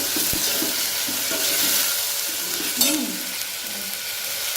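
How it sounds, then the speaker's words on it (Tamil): Tomatoes sizzle as they fry in a pan, a loud, steady hiss joined by occasional stirring scrapes and a brief clatter midway. "அடுத்தது தக்காளி சேர்க்க போகிறோம்."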